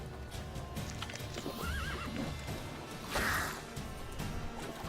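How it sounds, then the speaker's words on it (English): A horse in the video game Witcher 3 whinnies and clip-clops over a dense, busy game soundscape, with a sharp crash and a louder burst midway, the neighing clear and close. "Horse's fear level. Come on, Roach. You're cooler than that."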